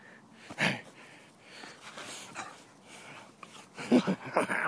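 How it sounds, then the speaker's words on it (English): A pit bull-Pomeranian mix dog snorts, pants and makes short whimpering sounds in quiet, uneven bursts close to the microphone, with a few louder breaths near the end. "There's a crazy dog after me!"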